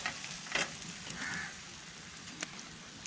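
Tomato curry simmering in a pan over a light flame outdoors beside backwaters, a soft, steady sizzle and bubbling with a few light clinks and stirring sounds, quiet and close.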